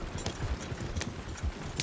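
Horses gallop in the Red Dead Redemption 2 western game, a quick rhythmic clatter of hoofbeats over a steady background.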